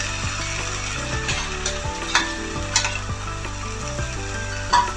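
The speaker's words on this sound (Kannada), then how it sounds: "ಇದು ಈರುಳ್ಳಿ ಫ್ರೈ ಆಗಿದೆ" Onions and greens fry in a pan for a village-style mixed greens dish, giving a steady sizzle with occasional scraping stirs and clinks throughout, alone without talk.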